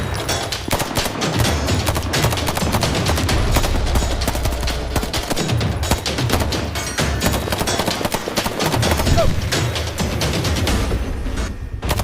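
Gunfire during a combat operation in mountain terrain, dense sustained bursts of rapid automatic shots, loud and continuous with overlapping reports and echoing booms.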